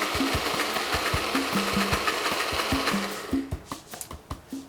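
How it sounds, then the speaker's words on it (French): A blender whirs as it mixes pesto with parmesan and a little oil, a loud steady grinding hum for about three seconds before it breaks into uneven bursts and knocks. "Et on commence à mixer."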